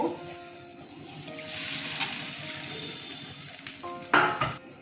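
Water poured into a pan of frying potato curry, a broad hissing sizzle that swells and holds steady, with a few clinks of a utensil against the pan and a sharper clatter near the end.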